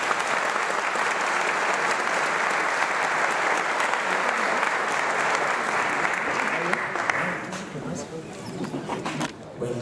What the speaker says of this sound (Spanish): Vamos a recibir con un gran aplauso al doctor Jorge Enrique Machuca López